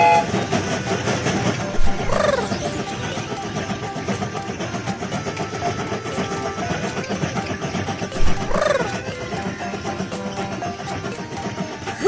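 A toy-like train chugs along with rhythmic clatter, and two bright whistle toots sound several seconds apart over a busy soundscape in a BabyBus Baby Panda's Train children's game.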